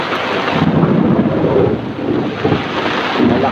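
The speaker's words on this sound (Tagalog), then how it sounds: "Malakas yung kulog oh. Saka yung kidlat." Loud thunder rumbles through a heavy rainstorm in a rural spot with coconut trees, deep continuous roaring mixed with rain and wind buffeting the microphone, swelling and easing across the few seconds with no talk.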